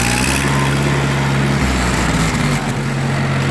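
A Ford 9N/2N/8N Ferguson-style tractor engine runs steadily and loud up close, its throttle pushed up by foot to a higher, rougher rev partway through, with no talk over it.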